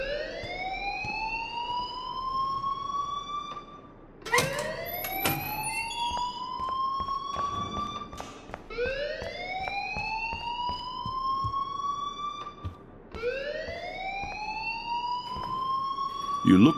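A rising, repeating alarm in the video game Life is Strange wails in four long sweeping cycles, loud and close, with sharp clicks and other game sounds between the sweeps.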